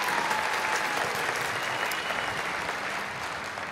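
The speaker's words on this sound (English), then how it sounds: "Let's give Jalen one more round of applause" A high school commencement crowd claps for a graduation speaker, a full, sustained burst of applause that stays loud and even and tapers slightly at the end, with no talking over it.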